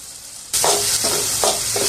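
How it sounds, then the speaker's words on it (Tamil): Onion, tomato and garlic sizzle loudly as they hit hot oil in a pan, with a spatula scraping and stirring a few times in a steady rhythm. "வெங்காயம் தக்காளி பூண்டு நல்லா வதங்கிச்சு"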